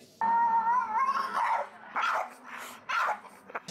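A dog lets out a long whining yelp followed by several sharp barks in an irregular run, close and loud against a quiet background.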